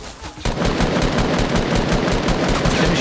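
Video game gunfire: a loud, dense stream of rapid automatic shots that runs without a break after a brief quieter opening.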